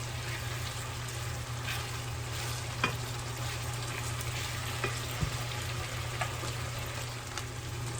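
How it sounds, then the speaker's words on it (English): Onions and garlic frying together in a pan for Sicilian pasta alla Norma, a steady soft sizzle with occasional pops and clicks, no talking. "the onions, the garlic, all together. Oh my goodness. So now you let it simmer until they get soft"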